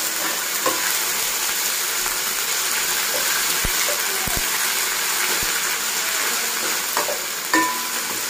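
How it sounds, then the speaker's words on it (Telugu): Ginger garlic paste sizzling in a pan for coriander rice, a continuous hiss broken by occasional spoon knocks and scrapes against the pan, no voices. "అల్లం వెల్లుల్లి కొంచెం ఫ్రై అయ్యింది కదండి"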